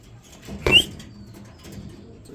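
A male Dragon-breed pigeon gives one short, sharp flutter or call near the middle, close but fairly soft, over a quiet low background.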